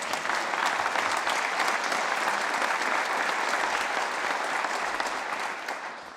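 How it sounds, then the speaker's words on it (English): An audience at a state address applauds with sustained, dense clapping from many hands in a large hall, steady then easing slightly at the end. "yes, you can clap for that."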